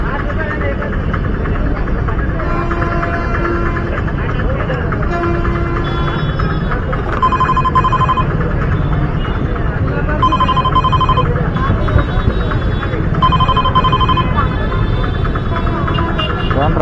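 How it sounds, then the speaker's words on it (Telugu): A mobile phone rings repeatedly during a bike-taxi ride, its electronic ringtone pulsing in regular bursts over steady engine and road noise, loud and close throughout. "ఫోన్ రింగ్ అవుతుంది కదా"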